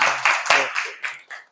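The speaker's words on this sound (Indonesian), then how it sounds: "Tepuk tangan buat Adli." Students in a grade 7 classroom at MTs Negeri Samarinda clap for a classmate, a short burst of a few close, sharp claps mixed with voices that trails off quickly.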